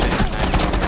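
Short, close burst of rapid gunfire from a Rainbow Six Siege match, dense repeated shots packed into under a second at loud level.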